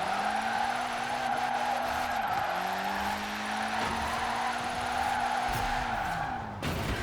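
Drift car tires skidding in the racing game Forza Horizon 4, a loud continuous squeal over a steady engine drone that shifts pitch as the car slides, with no talk.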